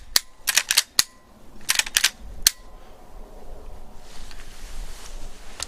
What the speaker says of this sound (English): Move the lever, work the trigger.